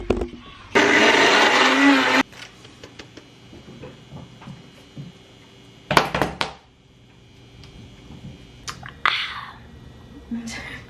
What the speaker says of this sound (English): I'm gonna combine the powdered sugar, the almond flour, and the salt, and I'm gonna pulse it in here for a little bit